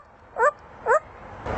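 A parrot imitates a dog's bark, giving two short, evenly spaced, pitched yelps about half a second apart, close and clear, with no talking.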